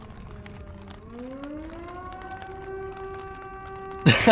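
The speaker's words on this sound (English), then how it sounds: "Sounds like an air raid siren." A rising, wailing air raid siren climbs in pitch and then holds a steady tone, sounding distant from a campsite tent in Europe, before a sudden loud noise burst at the end.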